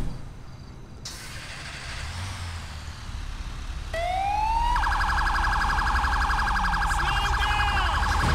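A fire truck siren in GTA V starts up, sweeping upward and then settling into a loud, rapid warbling wail that holds steady over low engine rumble, close and dominant.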